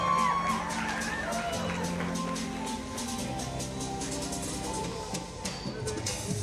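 Spectators cheer and shout in support of a Cuban archer at the recurve finals of the Santiago 2022 Pan American Championships, a steady roar with whoops throughout, and voices can be heard through it.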